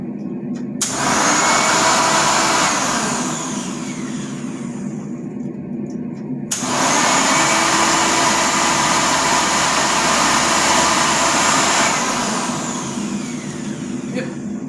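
A 1990/1991 green Hoover Legacy bagged upright vacuum cleaner switched on twice, each time starting abruptly into a loud, steady motor whine close by, with someone speaking over it.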